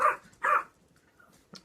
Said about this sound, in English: Cue the dogs.